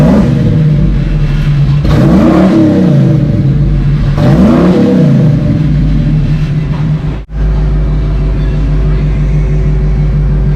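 A 1995 Ford Lightning pickup engine revs through a rebuilt exhaust with the headers joined to the muffler and reused Y-pipe pieces, loud and close, with repeated rising and falling revs over a deep idling rumble and a brief cut near the end.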